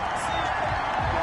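A stadium crowd in a PS4 football video game reacts to a penalty flag with a dense, steady roar of murmur and jeers, loud and continuous for a brief moment.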